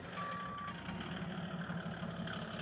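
Diesel OM606 engine in a 1997 Europa G300 overland truck idling steadily just after starting, a continuous low rumble with a brief tonal beep early on, no talk.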